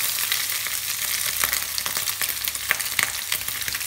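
Olive oil and bacon fat fry in a pan, a steady bright sizzle with occasional louder crackles and pops, close and continuous with no voices.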